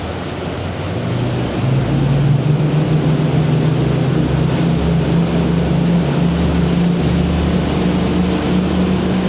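A 2008 Tiara 3900 Sovran motorboat throttles up for launch, its engine drone rising in pitch and holding loud and steady over rushing water and hull noise, with no talk.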